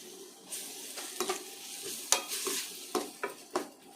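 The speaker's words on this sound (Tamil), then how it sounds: "இஞ்சி பூண்டு வதங்கியாச்சு" Ginger and garlic sauté in a little oil in a pan, a soft sizzle broken by repeated scraping strokes of a stirring spoon, fairly quiet and close.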